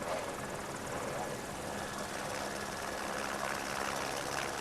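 Offshore powerboats race on the sea at the 1988 Sheffield UniCal Offshore 100 in Panama City, their engines a dense, continuous roar at moderate distance with no pauses.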